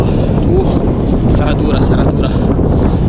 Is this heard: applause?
no